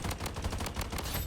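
Rapid bursts of AUG assault rifle hip-fire in the shooter game Blood Strike, a fast stream of loud, closely spaced shots rattling steadily throughout with no talk.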